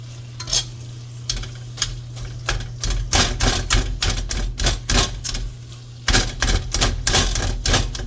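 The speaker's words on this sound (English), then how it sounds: "We're just going to put pecans. So just giving them a rough chop." Pecans get a rough chop with a knife on a cutting board, a rapid run of close, crisp knocks and crunches, uneven in rhythm with short pauses, over a low steady hum from the kitchen.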